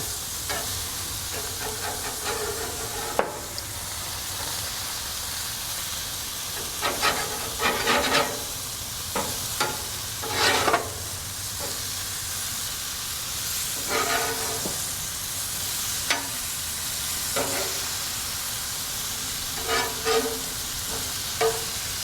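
Chicken pieces cook on a grill under a constant loud sizzle and hiss, with occasional bursts of crackling and a few utensil clicks throughout.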